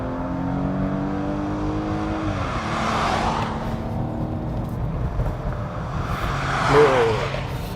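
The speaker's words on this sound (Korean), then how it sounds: "가속 페달을 밟았을 때 이 볼보 모듈러 엔진에 이 좀 독창적인 그런 사운드가 있는데" A low-slung Volvo sedan with a Volvo modular engine and 8-speed automatic accelerating, its engine note rising in pitch through the gears with a shift, then swelling again, steady and fairly close.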